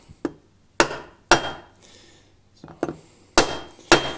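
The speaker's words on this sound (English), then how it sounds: "driving them in flat like this with a piece of wood is actually preferred over, like they say, the socket method" Sharp, loud hammer blows drive a rear wheel bearing into a Segway Ninebot Max G30 scooter through a flat piece of wood, several spaced knocks with short pauses between them.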